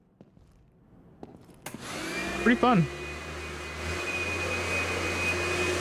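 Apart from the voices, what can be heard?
vacuum cleaner in renovation video game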